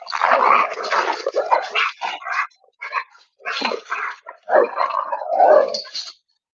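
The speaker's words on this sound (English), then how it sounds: "The dogs are just playing" Several dogs bark, yip and growl in play, with dense, loud bursts packed close together and short pauses between them, and no talking.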